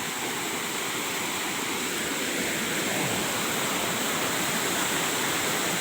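A steady, roaring rush of falling water, broad and constant from Bang Cham waterfall nearby in Kaeng Krung National Park, Thailand, with no voices.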